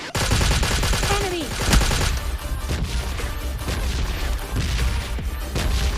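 Rapid bursts of gunfire in a PUBG Lite mobile match, coming from behind the player: dense, loud volleys of overlapping shots that continue throughout with short breaks.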